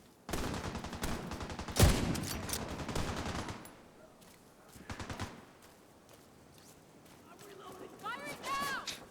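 Rapid automatic gunfire in The Division 2, dense bursts of shots up front that thin into scattered rounds, with voices talking over the action.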